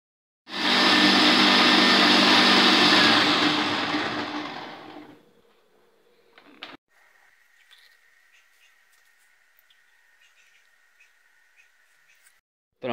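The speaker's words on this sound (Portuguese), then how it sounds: "Prontinho para batermos no nosso liquidificador." A kitchen blender whirs loudly for about five seconds, mixing apple, carrot, mint, ice and coconut water into juice, then winds down, followed by quiet clicks and a faint steady tone.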